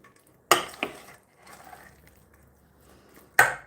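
A few sharp metallic clanks and scrapes of a utensil against a pot, with quiet scraping between them, close and otherwise silent.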